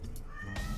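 A cat in Hearthstone lets out a short meow, fairly close and clear, heard alone with a soft ambient game hum behind it.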